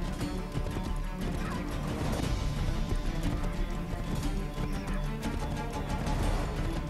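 Horses gallop and neigh in the Assassin's Creed 3 video game, a dense, steady clatter of hooves with whinnies mixed into a loud, continuous action soundscape, no talk over it.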